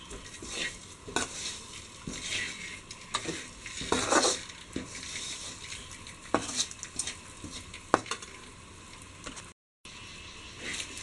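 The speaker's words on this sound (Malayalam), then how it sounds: "ഒരു 2 മിനിറ്റ് ഇങ്ങനെ ഇളക്കി കൊടുത്തുകൊണ്ടിരിക്കുക. മസാലയൊക്കെ മുട്ടയിലൊന്ന് പിടിക്കുന്നതിന് വേണ്ടിയിട്ട്." Boiled eggs are stirred through a masala for egg biryani, with a spoon scraping and knocking against the pan in irregular strokes over a light frying sizzle, close and fairly quiet.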